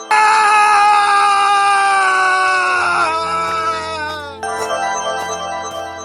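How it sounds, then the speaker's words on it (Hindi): A high, sustained cartoon scream of fright from a man in an animated story, loud and piercing, wavering and dropping in pitch partway through before a second burst rises again. "डर से हीरा चीख पड़ता है।"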